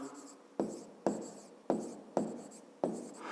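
Pen strokes scratch across paper while working a fifth-grade math exercise by hand, five distinct scribbling bursts in a steady rhythm, close and clear with quiet gaps between.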